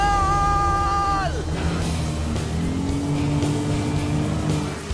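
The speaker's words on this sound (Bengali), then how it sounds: "3টে গাড়ি গোল করে ঘুরছে।" Three cars circling round and round, engines droning near and loud. A high revving whine drops sharply early on, then a lower steady engine hum settles in as they keep turning.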